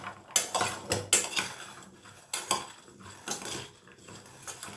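A metal spoon stirs salted okra in a pan for frying, giving repeated sharp clinks and scrapes against the cookware in an uneven rhythm, close and clear with no talk.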